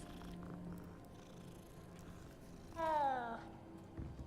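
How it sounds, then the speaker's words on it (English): A cat gives one clear, rising meow close by after a stretch of quiet background noise, with soft purring and faint game sounds around it. "It's fucking hella cats."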